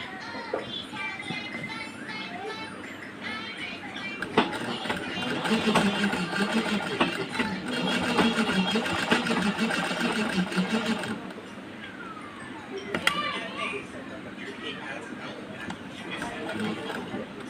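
A sewing machine stitches a blouse, its busy mechanical hum running in bursts close by while someone talks over it and faint background chatter carries on.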